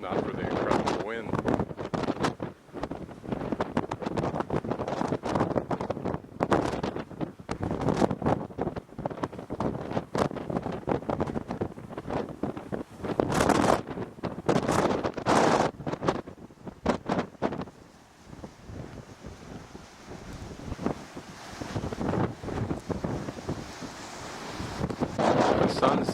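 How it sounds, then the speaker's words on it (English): Strong, incredible wind at the Green River Overlook in Canyonlands' Island in the Sky, buffeting the microphone in loud continuous rumbling gusts for the whole stretch, easing briefly before surging again. "if not for the incredible wind."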